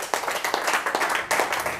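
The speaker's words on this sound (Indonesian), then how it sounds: "Berikan sorak-sorai buat Tuhan Yesus" A church congregation clapping and cheering for Jesus during a sermon: quick, steady handclaps from many people with excited voices mixed in, loud and close, filling the room.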